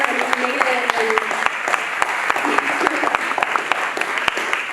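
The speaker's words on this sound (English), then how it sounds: "I think that that deserves another round of applause" An audience at a student leadership summit bursts into steady applause, dense clapping that fills the room evenly for several seconds with a few sharper claps standing out.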